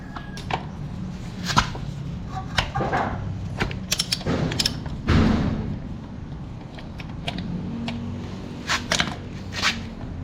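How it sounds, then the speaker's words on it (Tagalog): A 12mm socket wrench works the oil drain bolt on a Honda Click scooter during an oil change, giving close, repeated ratcheting clicks and metallic mechanism rattles in short bursts with a few louder clanks. "gagamit din tayo ng socket wrench ng 12mm"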